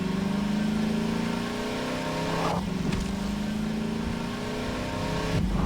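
A car rolls downhill along Highway 17 in Half-Life 2 (MMod), its engine a steady, fairly loud drone with two brief breaks, alone without talk.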